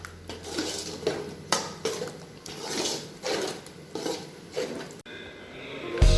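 A utensil stirs and scrapes flour dough in a pan as it thickens for kolukattai, with soft, repeated rhythmic scraping and clatter close by, fairly quiet, with no talk.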